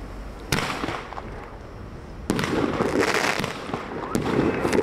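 A box of fireworks fired during a safety demonstration, sharp bursts at the start and midway followed by dense crackling that builds and continues to the end, loud and close.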